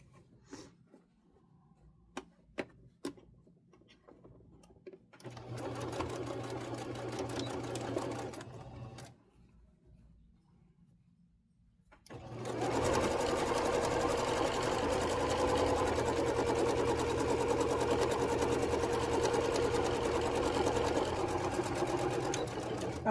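Sewing machine stitching a row onto a quilt: a few short clicks, then a steady whirring run of several seconds, a pause, and a longer continuous stretch of stitching close up.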